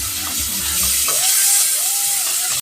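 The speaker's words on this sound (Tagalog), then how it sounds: "naginisa na natin yung luya, bawang" Ginger and garlic sautéing in margarine in a pan, a steady loud sizzle with light stirring scrapes, close up with no talk, ending in a quick clatter.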